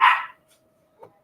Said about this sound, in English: You can hear the dog going nuts in the background